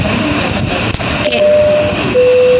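Airplane flight inside the Roblox video game, heard as a steady droning engine hum that fills the whole passage, with a thin tone and brief clicks on top and no talking.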